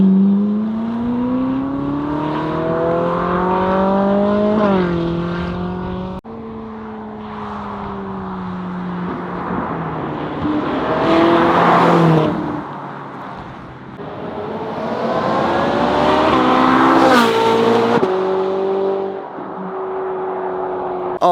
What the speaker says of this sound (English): You cannot go wrong with a naturally aspirated V8.